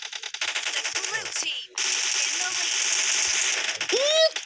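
Rapid bursts of video game gunfire crackle through a busy, dense mix, briefly cutting out midway before resuming, with players talking over the shooting.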